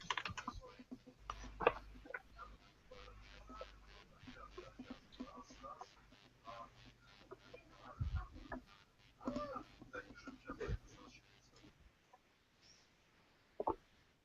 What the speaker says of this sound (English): terrible typing